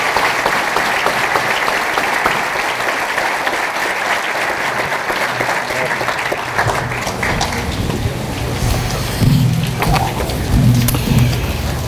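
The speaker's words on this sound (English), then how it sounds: "let's give a big round of applause to a class that's truly one for the books" Sustained, dense applause from a large commencement audience for a graduating class at Tilton School, a loud continuous wash that swells slightly near the end, with scattered louder clusters of claps.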